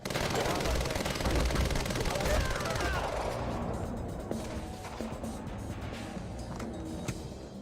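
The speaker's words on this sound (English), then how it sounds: "light machine gun running out of bullets so damn quick" Light machine gun firing in the video game Quantum Break, a dense, loud burst of rapid gunfire that is most intense at the start and then thins into scattered shots and crashes over the game's background noise.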